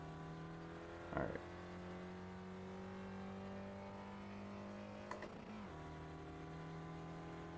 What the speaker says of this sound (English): Gosh, it sounds awful when it's shifting up.